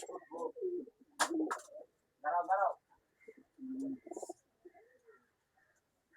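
Female pigeons, including Satchila birds, coo in short, separate bursts of soft, throaty calls with quiet gaps between them, low in volume and close by.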